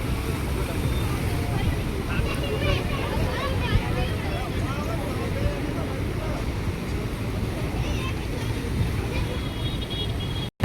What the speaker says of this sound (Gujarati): જો આ બોટ અત્યારે નીકળે છે.